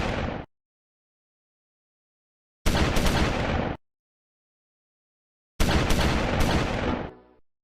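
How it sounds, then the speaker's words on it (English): An anti-tank gun fires in the Close Combat 4 World War II game at the Battle of the Bulge, Udenbreth: three loud, close blasts spaced a few seconds apart, each with a short rumbling tail and silence in between. "the second anti-tank gun, opens fire on the advancing Germans"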